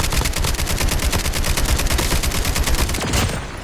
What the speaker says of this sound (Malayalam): എവിടെ നിന്നോ വെടിവെക്കുന്ന സൗണ്ട് കേൾക്കുന്നുണ്ട്.